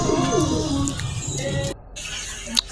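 Racing pigeons coo in low, throaty, repeated calls right after landing from a training toss, a dense, steady chorus that fills the space, with a brief quiet patch late on.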